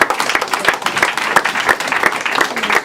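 A church congregation applauding together, a dense, fairly close wash of rhythmic clapping that carries on through the short stretch.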